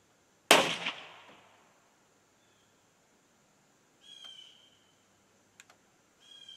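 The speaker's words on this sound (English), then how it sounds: "Primer went, but charge didn't." A Winchester X 150 muzzleloader's primer fires as a single sharp, loud pop that decays quickly, with no following main charge blast, set outdoors at a deer target; faint brief clicks and chirps follow later.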